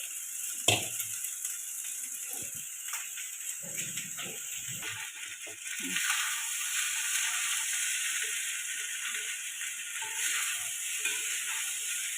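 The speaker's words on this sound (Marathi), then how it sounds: "व्यवस्थित असा फ्राय करून घ्यायचा" Rice tempered for a savoury breakfast dish is stir-fried in a pan at home, a steady sizzle with intermittent scraping and stirring clicks from a spatula, close and moderately loud.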